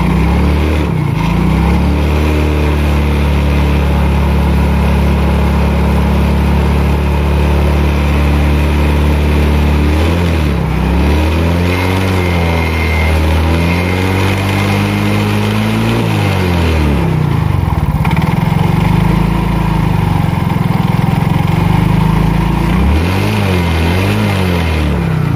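Yamaha X-Ride automatic scooter engine running at idle with a steady, close mechanical hum and a few brief rises and dips in engine speed.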